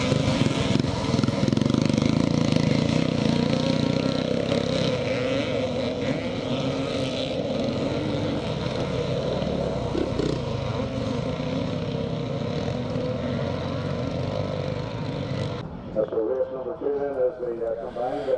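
Motocross bikes in a twinshock race, including a Yamaha YZ 360cc, roar in a steady, loud, continuous engine drone for most of the stretch, with a voice likely speaking over it; the noise eases and changes near the end.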